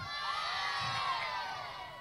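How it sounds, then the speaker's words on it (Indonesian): A festival crowd at a riverside opening ceremony in Parepare, South Sulawesi, shouts and cheers together in a sustained loud roar with high children's voices, steady for the whole stretch and close by. "Sebelah kanan coba teriak."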